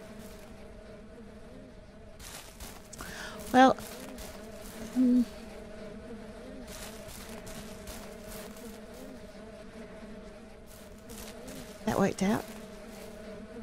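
Bees buzz in a low, continuous drone in the Ranch Simulator video game, with a faint background hum throughout. A few short louder bursts rise over it, and someone speaks briefly.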